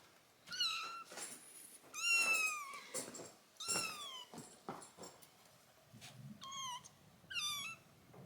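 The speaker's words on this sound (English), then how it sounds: "We have 3 kittens, you guys." Several kittens meow repeatedly in high, wavering cries, some overlapping, heard close in a dark indoor space with no talking.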